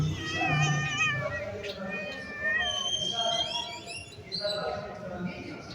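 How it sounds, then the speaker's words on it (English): A cat meows repeatedly in drawn-out, wavering cries, fairly close and loud, over a bed of background noise and other voices. "Where'd this cat come from?"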